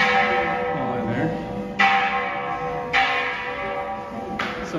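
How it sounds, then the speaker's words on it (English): A temple bell inside a Thai cave temple is struck three times for luck, each ringing clang blooming and slowly decaying through the echoing space, with faint murmuring voices in the background. "Somebody clanking the bell for luck."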